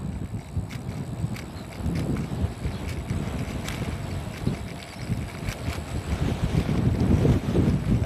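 Strong wind blows outdoors, a loud continuous roar buffeting the microphone with gusty low rumbles that swell toward the end, plus faint rattling clicks.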